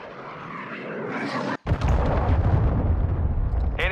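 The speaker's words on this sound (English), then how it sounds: "Hostile cruise missile launched." A cruise missile strike in Call of Duty: Modern Warfare II lands as a brief dropout followed by a loud, close, rumbling blast. Its heavy low roar sustains for over two seconds with crackling debris.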